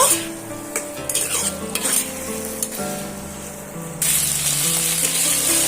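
Partly boiled potatoes being stirred and fried in oil in a pan, with a close crackling sizzle under repeated scraping strokes. The frying swells louder near the end.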